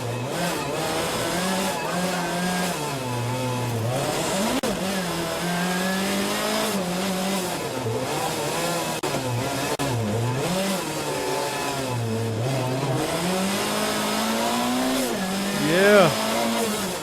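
Group B rally car engine revving hard, likely heard from inside the cabin, with a loud, steady drone whose pitch rises and falls as the car accelerates and shifts, under occasional talk.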